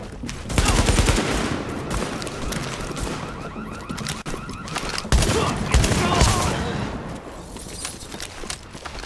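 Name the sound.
shotgun gunfire in the video game The Division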